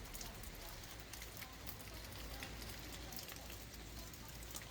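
Rain falls steadily outside in a garden, a dense even hiss with scattered drop ticks, faint and continuous.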